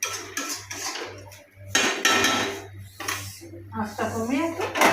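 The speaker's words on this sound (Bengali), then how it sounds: "আঁচটা কমিয়ে একটু ঢাকা দিয়ে দিচ্ছি।" A metal lid goes onto a cooking pot of goat brain and poppy seed curry with clinks and clatters of cookware. A low steady hum runs beneath, and someone speaks over the sounds.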